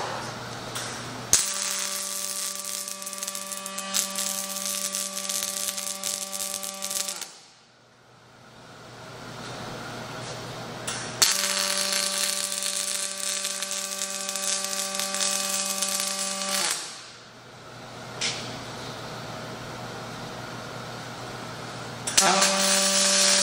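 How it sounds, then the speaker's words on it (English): Miller Electric cobot running an automated weld on a part, giving two long steady buzzing, crackling arc bursts of several seconds each with a tonal hum, separated by a short quieter pause. "So what we're gonna do, we'll go weld on."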